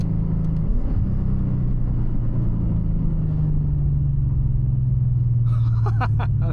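A Lexus IS F fitted with headers and a tune drives along, its engine giving a steady loud low rumble and drone throughout, with a brief sharper burst of revving near the end.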